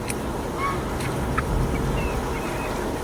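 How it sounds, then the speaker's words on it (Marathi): Geese honking on a poultry farm, a few short, bright honks standing out over a steady, noisy farmyard background. "हे बघा मस्त राजहंस"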